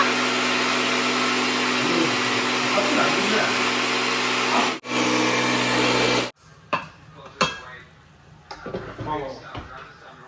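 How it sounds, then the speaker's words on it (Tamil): A mixer grinder blending coconut with sautéed onion and tomato masala for vegetable kurma runs as a loud, steady whirring roar for about six seconds, then shuts off, leaving quieter kitchen clatter and knocks. "தேங்காய் போட்டு அரைச்சி எடுத்துக்கிட்டு வெஜிடபிள் குருமாக்கு தாளிச்சிட்டு போகிறேன்"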